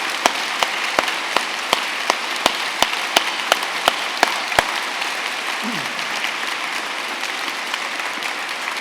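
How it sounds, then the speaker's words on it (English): Audience applauding graduates at an Open University degree ceremony in Newport, a dense, loud clatter of clapping with a few sharp regular claps up close that fade after about five seconds into a quieter crowd rustle. "let's start today's ceremony by giving our amazing graduates a huge round of applause"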